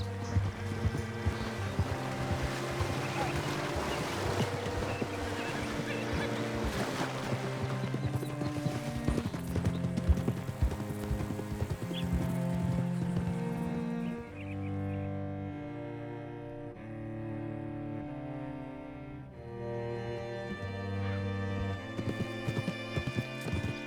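Horse hooves clip-clop steadily in the Red Dead Redemption 2 video game, a fairly quiet rhythmic trot partly buried under loud orchestral game music.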